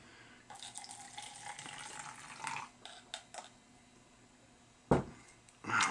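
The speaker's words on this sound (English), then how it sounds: "I'm just going to go ahead and pop this off and pour some into" Wine pours from a Waerator aerator into a glass, a trickling, splashing liquid stream that swells and fades in bursts, with a couple of sharper clinks and splashes near the end.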